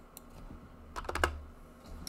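Typing on a computer keyboard: a few scattered light keystrokes, then a quick, louder cluster of clicks near the middle and one more tap at the end, heard alone without voices.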